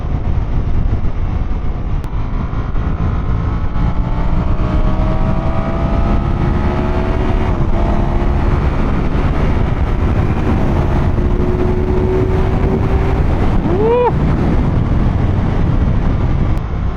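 A 2025 Panigale sport motorcycle engine drones continuously while riding, its pitch rising and shifting as it accelerates through gears, loud and steady, with wind-like rumble underneath.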